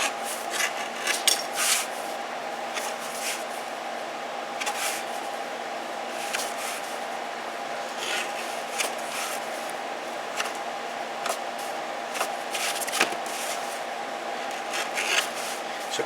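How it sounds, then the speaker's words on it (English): Leather-working tool edge being stropped on the same leather strop used for a knife, putting a small bevel on it; a steady, close rasping rub repeats throughout with brief sharper scrapes, no talking. "I'm just using the same strop that I was using before for the knife"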